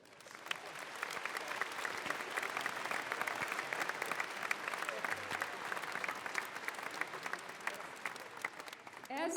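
Sustained applause from a large commencement audience fills the whole stretch, dense and even, with steady clapping from a big crowd in a hall.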